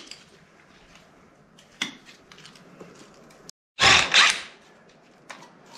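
Bolts come loose on the Hyster winch drum of a Caterpillar D4 crawler tractor: faint metallic clicks and clanks, then one loud, grinding tool burst lasting under a second after a brief silence.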